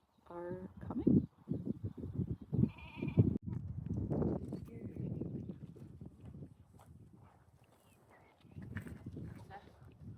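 Sheep and goat-like bleats rise near a lakeside hike, mixed with people nearby mimicking the animals' calls; the bleating stands out early, then blends into steady chatter and outdoor bustle.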